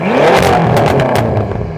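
A BMW F10 M5 engine revs steadily and loudly, with a rattling, clattery edge and faint crackles, holding high throughout with no voices.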